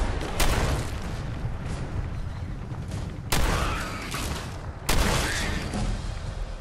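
Gunfire in Fallout 4 played on Xbox Series X, three sharp loud shots spaced a couple of seconds apart, each followed by ringing echo over a constant rumbling combat background.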